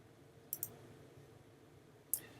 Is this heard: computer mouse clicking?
yes